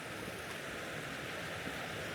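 A strong stream in an old town runs in a steady, dense rush of water, constant and fairly loud throughout, with no voices.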